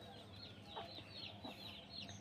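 Egg-laying hens on a small farm, clucking faintly in short repeated bursts, a little distant and steady in rhythm, with no speech.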